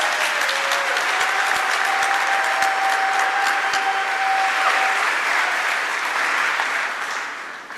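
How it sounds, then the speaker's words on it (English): A crowd at an awards ceremony at Center on Halsted breaks into sustained, dense applause, with many hands clapping steadily for several seconds before the sound begins to taper off at the end. "so I'd like to give her a round of applause."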